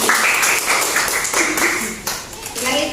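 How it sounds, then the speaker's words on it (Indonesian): Students clap in a classroom, a dense burst of applause spread across the moment while a teacher's voice keeps talking over it. "Bagus, tepuk tangan."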